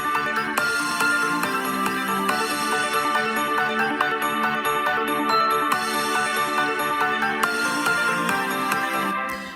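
The full GarageBand recreation of Sonic Mania's intro theme plays continuously, layered instruments over a fast background arpeggio, with chord changes every couple of seconds and no voices.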